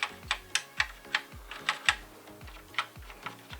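Keys are pressed on a BBC Model B Issue 7 computer keyboard that is not registering input: about a dozen close, crisp plastic clacks at an uneven, quick rhythm, alone with no speech.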